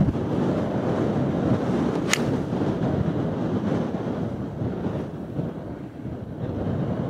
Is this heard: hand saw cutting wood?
no